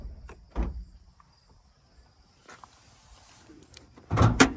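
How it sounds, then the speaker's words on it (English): Power sliding doors on a 2007 Honda Stepwgn RG2 minivan, two dull thuds and rolling slides with a clunking latch near the end, close and fairly loud, with quiet gaps between. "Dual sliding door,"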